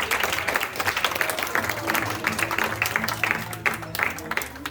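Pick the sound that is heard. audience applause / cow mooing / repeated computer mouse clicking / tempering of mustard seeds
audience applause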